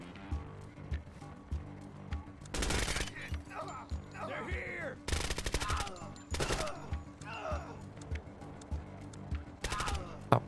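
Video game gunfire in bursts: several loud, sharp volleys of rapid shots separated by quieter stretches of game ambience and voices, with a final burst near the end.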